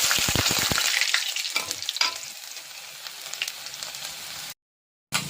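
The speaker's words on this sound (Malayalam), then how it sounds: "നമ്മൾ ഇഞ്ചി നീളത്തിൽ അരിഞ്ഞു വെച്ചിട്ടുണ്ടായിരുന്നു അപ്പം അത് ഇടുവാണ്" Julienned ginger drops into hot oil already holding mustard seeds and fenugreek for a Pathanamthitta-style fish curry, setting off a loud, steady crackling sizzle that starts with a few sharp pops and then settles into continuous frying until an abrupt cut near the end.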